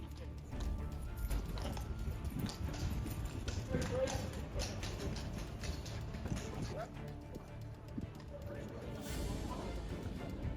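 Horse hooves clip-clop beside a Royal Guard post amid a busy crowd, steady hoof strikes running under constant chatter and background voices throughout.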